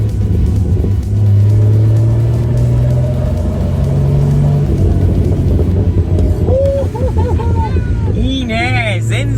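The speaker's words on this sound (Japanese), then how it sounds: "タイヤ、ホイールを大きめのやつにしてからこのマフラー聞かせて" A modified car engine with an aftermarket muffler and no catalytic converter rumbles deep and loud with rising revs, as voices chatter excitedly over the exhaust drone.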